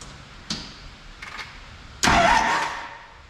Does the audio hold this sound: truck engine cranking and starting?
yes